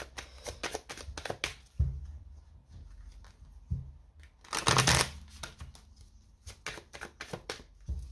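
Tarot cards are dealt and laid one by one onto a table, giving brisk papery slaps and flicks in irregular bursts, with a louder riffling shuffle midway, close and without speech.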